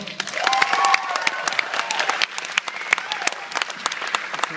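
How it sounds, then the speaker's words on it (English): An audience applauds Michelle Sugimoto at an ABC gathering, a steady burst of many hands clapping close by, with scattered voices and brief cheers mixed in throughout. "Give her a round of applause."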